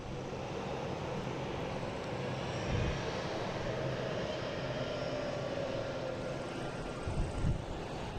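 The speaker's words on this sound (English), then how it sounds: "we have Alaskan Airlines here backing up, doing its dance in the alley here" Alaska Airlines jet backing up on an airport apron, a low, steady engine rumble and hiss at moderate distance, with a faint whine in the middle and brief thumps near the end.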